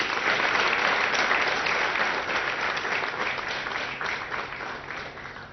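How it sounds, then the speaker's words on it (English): Sustained applause from an audience at an aerospace ceremony marking the 100th Apache helicopter fuselage built at the Tata Boeing facility, a dense, steady wash of clapping that slowly fades over a few seconds. "A big round of applause to all of you."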